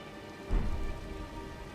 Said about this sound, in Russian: Дождик пошел.